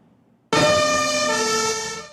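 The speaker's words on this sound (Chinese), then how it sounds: "消防车赶要去救灾" A fire engine siren blares suddenly after a quiet half second, loud, close and steady, as the truck responds to earthquake damage in Granada province in southern Spain.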